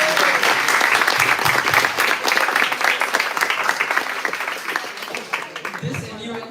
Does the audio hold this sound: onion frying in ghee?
no